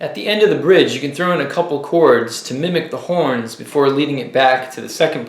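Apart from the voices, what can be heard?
No everyday noises stand out.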